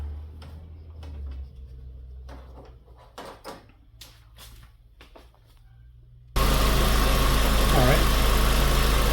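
A 2005 Ford Focus getting cranked up, with a few clicks and knocks around the car before the engine catches and settles into a loud, steady close-up idle, and brief speech early on.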